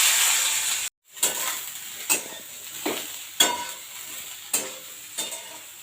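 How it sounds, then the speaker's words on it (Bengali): Boiled soybeans frying in oil, a close sizzle broken by a brief gap, then rhythmic stirring strokes about every half second, each a sharp scrape over the hiss, with no talking. "সেদ্ধ করা এই সোয়াবিনগুলো ভেজে নেব প্রথমে।"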